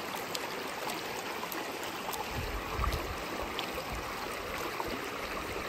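Trail stream on the Appalachian Trail where feet soak, a steady close babble and trickle of water with small splashes, no voices.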